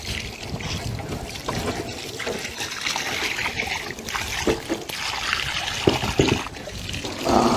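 Water is poured over salted fish being washed clean by hand, with uneven splashing and trickling that rises and falls close by, and no voices.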